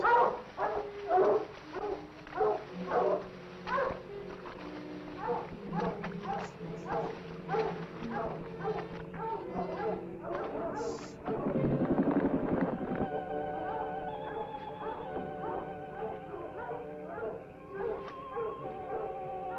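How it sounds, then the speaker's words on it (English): Dogs bark rhythmically and howl in a 1959 film soundtrack, with horse hooves and a whinny mixed in and people talking over it. "Lovely dogs."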